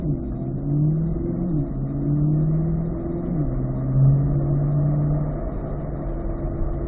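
A Corvette accelerates at a driving school, its engine climbing in pitch through a couple of gear changes to a steady cruise, moderately loud and close with no talk.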